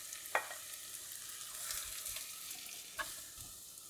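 Curry leaves, garlic and ginger with sliced onion frying in a pan, a soft steady sizzle with two sharp clinks of a spoon against the pan.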